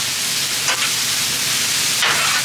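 Sirloin steak sears on a Blackstone griddle beside a sesame teriyaki stir-fry, giving off a loud, steady close-up sizzle broken by two brief scraping stirs of a spatula.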